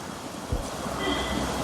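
Strong outdoor wind rushing steadily across the microphone, a continuous broadband roar with low gusty buffeting and no voices.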